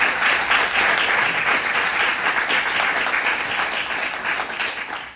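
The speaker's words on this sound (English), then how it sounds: "Would you please give him a round of applause?" Steady, dense applause from an audience at a climate listening session at Bowie State, loud and sustained for several seconds before tapering slightly at the end.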